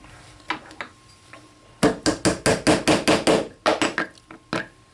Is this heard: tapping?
yes